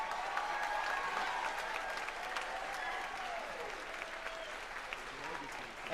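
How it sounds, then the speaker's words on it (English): Sustained applause from a high school wind ensemble concert audience, dense and steady clapping that fades slightly toward the end, heard indoors at moderate distance. "let's give him a big round of applause"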